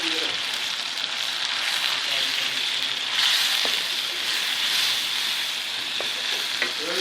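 Crushed ginger and garlic sizzling steadily in hot oil for aloo methi, a continuous loud frying hiss with occasional stirring clicks, close by.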